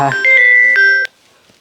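A short electronic tone melody plays, bright and loud, several stepped beeps like a phone ringtone, then cuts off into quiet.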